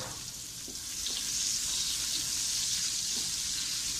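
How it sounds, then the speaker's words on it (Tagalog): Onions frying with garlic in a pan for pancit bihon, sizzling with a steady hiss close by, growing slightly louder partway through, with faint stirring scrapes. "make sure na magiging caramelize yung ating sibuyas"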